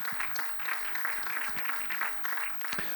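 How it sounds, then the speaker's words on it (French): An audience at a conference panel on agricultural cooperation between two continents claps steadily for the speakers, a dense, even patter of many hands lasting about three seconds. "Je vous demande de les applaudir tous très chaleureusement,"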